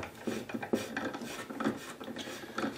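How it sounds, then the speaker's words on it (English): Small scraping, clicking turns as a bolt is screwed by screwdriver into a quadcopter body, quiet and close, in an uneven series of short rasps. "So I'm going to do some more screwing on it"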